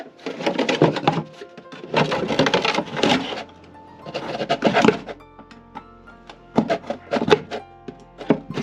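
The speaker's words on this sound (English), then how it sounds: "you can just put your knife in and give it a slit" A knife stabbing and sawing slits into a plastic milk jug, several bursts of crackling, crinkly plastic cutting with short pauses between, close and fairly loud.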